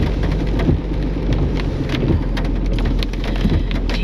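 Steady heavy rain pours down onto dark pavement on a mountain road, a dense, loud, continuous hiss with scattered heavier drops and a low rumble beneath.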